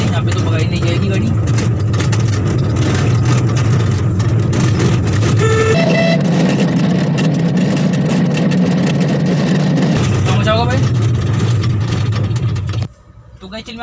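A car engine hums steadily while driving on a road, a low continuous drone that shifts pitch partway through as if changing gear, with someone talking over it throughout and a sudden drop near the end.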